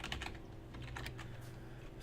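Fast, close keystrokes on a computer keyboard as a search is typed in, a steady run of light clicks with no talking over them.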